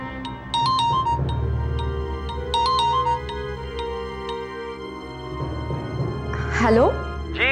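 A phone ringtone plays a repeating high melodic pattern over ongoing background music, with a voice breaking in near the end.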